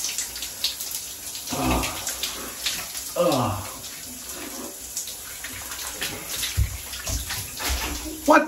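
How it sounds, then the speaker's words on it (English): A running shower sprays water in a steady hiss throughout, with a voice speaking over it in short bursts. "This is a nice shower you got here."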